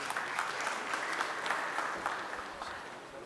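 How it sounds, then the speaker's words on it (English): Steady applause from an audience at an event launching a metal 3D printing machine, a soft, even patter of many hands clapping, somewhat distant and fairly quiet, lasting the whole moment without talk. "With a round of applause, please."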